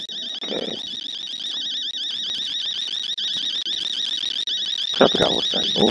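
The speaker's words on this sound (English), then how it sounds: "It's like a phone. Oh, alarm clock." Alarm clock ringing in the horror video game Fears to Fathom, a continuous warbling electronic tone that holds steady for the whole stretch, with a few soft thumps and rustles near the start and end.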